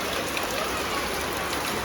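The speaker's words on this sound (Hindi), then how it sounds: "पूरा तेज बारिश हो रहा है, बहुत तेज बारिश हो रहा है" Heavy rain pouring down in a dense, continuous hiss, loud and steady throughout with no voices.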